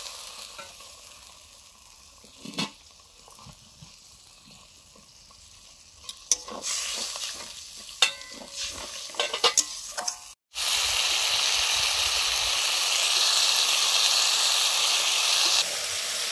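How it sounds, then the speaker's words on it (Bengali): Spice paste with chili powder and water being fried and stirred in a pan, starting with scattered scraping clatter, then a loud, steady sizzle that holds evenly to the end. "মশলা জলটা দিয়ে ভালো করে কষে নেবো মশলাটা"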